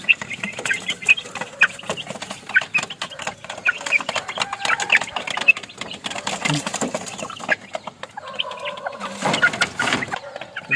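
Backyard chickens cluck and chatter in scattered, uneven bursts at close to moderate distance, with low background noise and brief louder squawks near the end.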